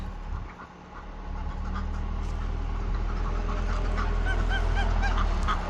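Domestic ducks or geese honk repeatedly on a farm, the calls mid-distance over a steady low rumble of outdoor noise, continuing without talk throughout.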